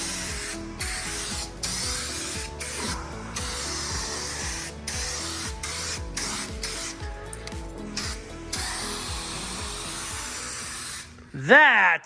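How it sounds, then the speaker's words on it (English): Vinegar sprayed by hand onto the sanded metal body of a 1971 Ford F100 pickup, a close, rapid run of evenly repeated spritzes from a trigger sprayer, ending with a short squeaky rub. "so I might spray it again with the vinegar"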